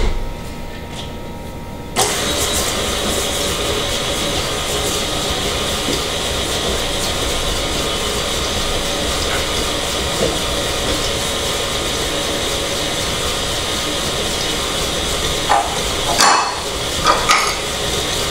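A stand mixer runs on low through chocolate chip cookie dough, starting abruptly and then holding a steady whirring motor drone with a grinding texture, ending in a few brief clunks near the end.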